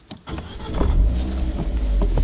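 A Fiat 124 Spider sports car engine rumbles with a deep, low burble, rising and holding steady at close range after a brief quiet start.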